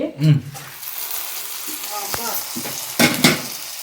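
Food being stirred and mixed in a hot sizzling pan while jaggery rice is being made in a village kitchen; a few short clattering scrapes of the spoon come over a low sizzle, with a brief voice near the start.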